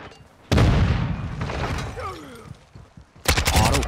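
Rapid bursts of auto pistol fire in Call of Duty: Modern Warfare II, loud and close, with a sharp opening volley, a quieter stretch of battle noise, then another dense burst at the end.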